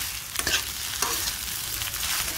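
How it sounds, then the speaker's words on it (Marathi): Sabudana khichdi stir-fried in a pan, a steady close sizzle with a few sharper scraping stirs of the spoon, no voices. "आता आपण ह्याला छान असं परतून घेऊया।"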